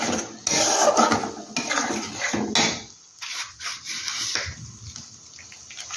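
Cashew and poppy seed paste being sautéed in a pan, with loud spatula scrapes and knocks against the pan over the first three seconds and quieter stirring and faint sizzling afterwards.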